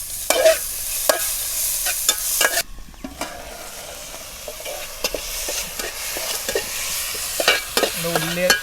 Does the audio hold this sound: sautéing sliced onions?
yes